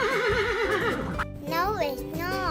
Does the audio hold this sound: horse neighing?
yes